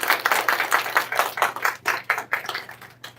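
Scattered hand clapping from a church congregation at a Sunday worship service, a few irregular claps at a time, moderately loud and close.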